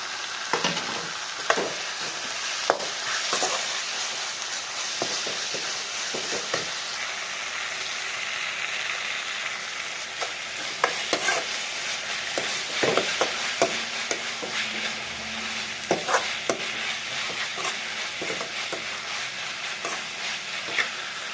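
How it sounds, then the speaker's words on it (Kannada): Tamarind rice with coriander leaves is stirred in a hot pan, with a steady sizzle and frying hiss under repeated scraping and clacking strokes of the spoon, close and continuous with no talking. "ಈಗ ಕೊತ್ತಂಬರಿ ಸೊಪ್ಪನ್ನು ಹಾಕಿ ಮಿಕ್ಸ್ ಮಾಡೋಣ"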